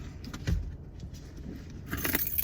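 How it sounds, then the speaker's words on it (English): Car keys jangle close by in a few quick, light metallic shakes over a quiet background. "Got my car keys."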